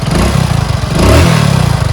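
A motorcycle engine idles up close with a steady, low chugging rhythm, briefly swelling louder midway before settling back to an even beat.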